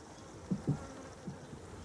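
Honeybees around a hive give a faint, steady buzz, with a couple of brief louder buzzes as a bee passes close.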